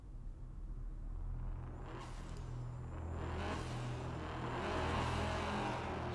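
A car engine revs and rumbles in the racing game Night Runners, a steady low drone with rising surges and whooshing swells across the stretch, fairly loud and continuous with no voices.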